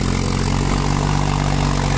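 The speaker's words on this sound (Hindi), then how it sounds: "बिल्कुल नया ट्रैक्टर आज एजेंसी से लेके आए" A brand-new Mahindra 265 DI XP Plus tractor idles up close, its engine giving a steady low throbbing drone that stays loud and even for two seconds, with no voices.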